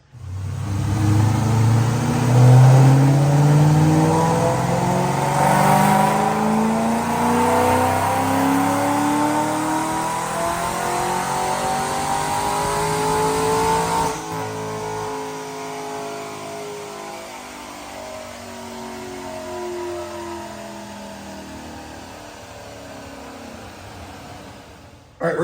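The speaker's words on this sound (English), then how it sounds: "Check out this dyno pull." Supercharged 2005 Mustang automatic with a Paxton supercharger and long-tube headers revving hard on a dyno, a loud continuous engine note climbing steadily in pitch through the pull, then easing off near the end.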